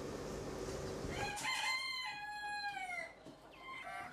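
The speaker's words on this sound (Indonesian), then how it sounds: "memelihara berbagai jenis ayam hias dari Eropa" An ornamental European breed of rooster crows once with a long drawn-out call at moderate distance, preceded by rustling farmyard noise and followed by faint clucking.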